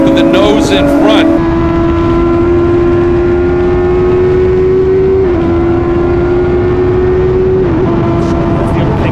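Rush SR race cars run side by side at Lime Rock, a loud, steady engine drone holding one pitch with brief shifts and a short burst of overlapping engine noise at the start.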